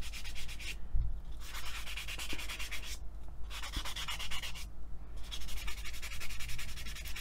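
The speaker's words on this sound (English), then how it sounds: "you can feel the sanding pad stop dragging" Steady abrasive rubbing of a sanding pad on a small piece of Cernit Pearl polymer clay, continuous and close, with brief pauses between strokes.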